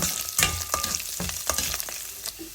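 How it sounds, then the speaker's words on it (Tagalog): Garlic being sautéed with meat in a hot pan for adobong sitaw: a close, continuous sizzle broken by several sharp stirring scrapes and clatters, with no one talking. "Then, gisa-gisa lang kasama ng karne."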